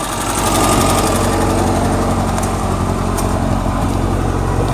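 A 1985 Suzuki Samurai engine runs steadily at idle, a loud, close, continuous mechanical rumble with a fast even pulse and no talking over it.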